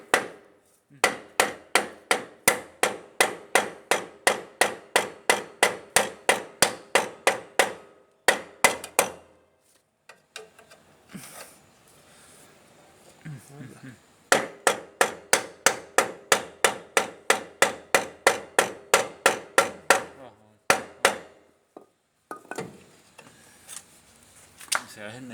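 Metal pins on a Bajaj three-wheeler brake assembly are struck by a hammer in two long runs of rapid, evenly spaced loud blows, close by, with a pause of scraping and handling sounds between them.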